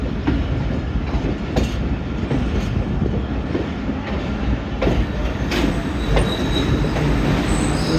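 A passenger train runs on the branch line to Wazirabad, heard from on board as a loud, continuous rumble of wheels on rails with rhythmic clatter and occasional higher squeals, steady throughout.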